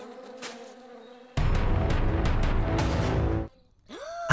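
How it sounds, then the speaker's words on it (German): Bees swarming in a game scene, a loud dense buzzing that surges in abruptly, holds steady for about two seconds, then cuts out, with quieter hum and a rising whine around it. "lass dich ruhig von den Bienen stechen"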